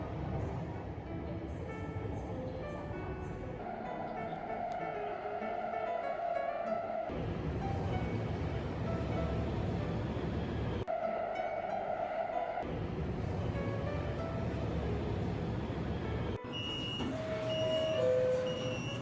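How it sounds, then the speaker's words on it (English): A miniature train for cats rolls into a small model station, a steady mechanical running hum with shifting electronic tones and chimes layered over it, fairly even in level throughout. "The train with the cats is about to arrive."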